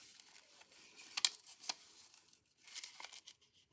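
Scissors slice paper for handmade index cards in a few quiet, close snips and crisp tearing rustles, with the sheet crinkling between short bursts and no talk.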